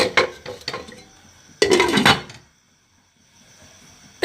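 A lid set over a hot pan of singhara (water chestnuts) on the stove, with sharp metallic clatters and knocks in quick bursts, then a quiet stretch.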